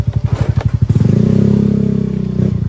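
A motorcycle close by in rural Dolores, Quezon, starts with a quick run of pulsing engine thumps, then settles into a loud, steady drone with a brief bump near the end, and no talking.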